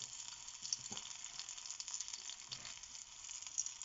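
Garlic sizzles in a little hot oil in a pan, a soft, steady crackle with small pops scattered through it, faint and close with no talking.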